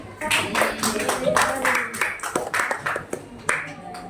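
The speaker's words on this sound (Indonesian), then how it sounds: "tepuk tangan untuk Farid" A classroom of students claps for a classmate, a steady burst of fairly close applause with uneven individual claps standing out and voices mixed in, tapering toward the end.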